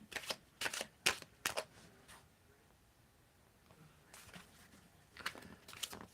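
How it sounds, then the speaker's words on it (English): Tarot cards being shuffled by hand in quick bursts, crisp riffling clusters near the start and again at the end with a quiet pause between. "You can tell me when to stop shuffling."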